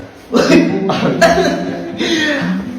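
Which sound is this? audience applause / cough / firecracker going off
cough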